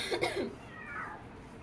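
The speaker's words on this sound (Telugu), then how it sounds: "ఇంటి చుట్టూ పిల్లులే, మనకే ఉంటాయి పిల్లులు" A house cat meows close by, a short drawn-out cry with a rougher burst at the start, fairly faint against a quiet indoor background.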